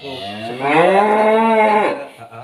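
A young cow in a farm pen gives one long, loud moo that swells and holds for over a second before trailing off, alone without talk.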